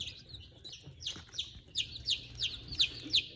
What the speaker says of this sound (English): So this is one of my black copper chicks